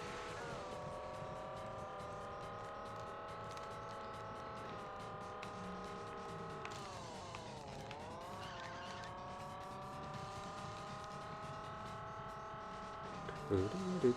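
A toy race car in the PS2 game ChoroQ holds a steady, buzzing engine drone through a lap. The pitch sags and recovers midway, and a short clatter comes at the end, all fairly faint under light talk.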